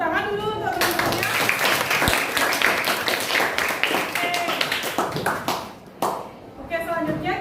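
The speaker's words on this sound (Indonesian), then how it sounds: "Tepuk tangan dulu untuk teman-temannya." Students in a classroom clap together in a sustained round of applause, dense and steady throughout, with a teacher's voice and scattered talk heard over it at the start and end.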